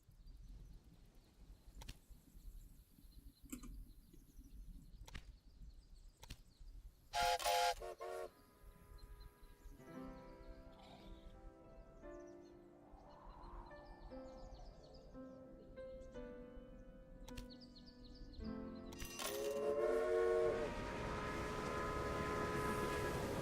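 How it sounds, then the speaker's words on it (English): Grain trains pull in within the railroad strategy game Railway Empire: quiet rumbling rail noise punctuated by clicks, several brief horn toots and a louder whistle blast near the end. "And lastly, it should be our grain trains coming in."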